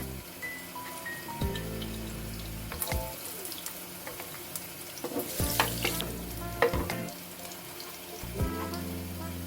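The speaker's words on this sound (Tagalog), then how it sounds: "mainit na yung ating mantika. Pwede na natin ilagay yung ating bawang." Garlic dropped into hot cooking oil for a sweet and sour fish dish, sizzling and crackling up close with stirring clatter and utensil knocks in bursts throughout.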